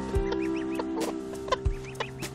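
A mother hen clucks softly and repeatedly to her baby duckling and gosling, with short rising chirps from the young birds scattered between the low, close clucks.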